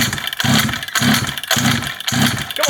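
A neglected junkyard pocket bike engine cranks and tries to catch, with four loud rhythmic chugging bursts evenly spaced and a rattly mechanical clatter between them, close up.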